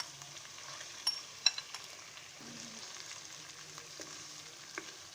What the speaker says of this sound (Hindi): तीन से 4 मिनट हम इनको फ्राई कर लेंगे जब तक इसका कलर ना चेंज हो जाए